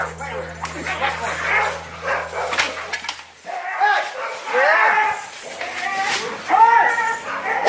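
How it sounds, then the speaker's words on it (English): Two Rottweiler dogs face off and fight, with loud, close snarling barks and growls coming in rough bursts. "Rottweiler, 2 dogs are going face to face. The fight has been started."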